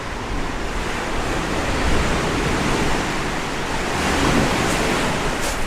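Sea waves at high tide wash steadily under a seaside pier at Felixstowe or Walton-on-the-Naze, a loud, continuous rushing surf with no speech.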